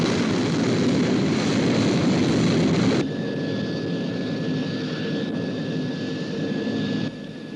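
A Sky 1 interceptor aircraft flies with a loud, steady jet roar that drops to a lower, smoother drone partway through, joined by a thin high whine.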